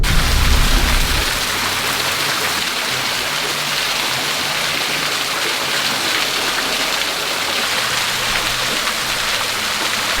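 Water from Scouts Falls pours in a steady, dense rush, loud and constant from start to end, with a low rumble fading in the first second.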